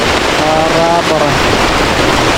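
Steady, dense rain pours over a jungle campsite with tents beside a river in the forests of Kalimantan, a continuous close hiss with a brief voice rising faintly beneath it.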